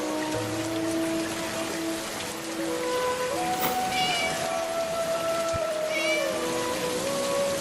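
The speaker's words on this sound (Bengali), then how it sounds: "একি বিড়াল ডাকছি?" A small cartoon kitten, wet and shivering in the rain, meows several times in thin, plaintive cries over steady rainfall and soft sustained background music tones.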